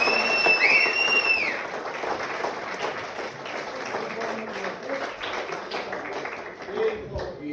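A crowd claps at a send-off speech: a dense, sustained round of applause close to the listener, with a couple of high whistles early on and voices mixed in.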